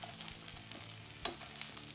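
Pork chop frying in a pan with apples, onions and mushrooms, a quiet steady sizzle with a few soft stirring scrapes and clicks, close but faint, with no talk.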